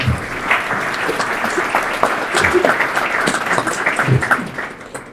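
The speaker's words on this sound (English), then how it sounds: "just a little round of applause for" An audience applauds for panelists at a panel on AI talent in Maine, with steady, dense clapping filling the room for several seconds.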